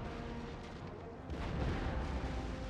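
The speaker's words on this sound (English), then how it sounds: "you're not really doing a lot of damage with those tiny cannons" Small naval cannons fire during a sea battle in the strategy game Empire Total War, a faint, continuous rumble of distant booms blending into a dense, steady roar with no talk.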